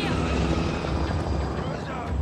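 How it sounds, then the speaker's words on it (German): A helicopter in the PS4 game The Last of Us drones with a steady, close rotor and engine rumble while a voice talks over it throughout. "Also der Helikopter wäre jetzt praktisch."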